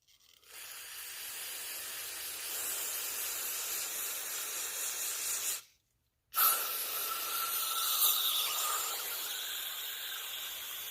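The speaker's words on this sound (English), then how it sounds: "just keep spraying it a little bit more." A continuous hissing aerosol spray of cleaner on an EGR part from a 1990–1993 Honda Accord runs for several seconds, stops abruptly for a brief moment, then resumes just as loud and close.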